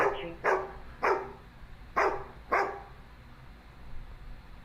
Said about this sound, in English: There's the doggy right there, just as I talk about it.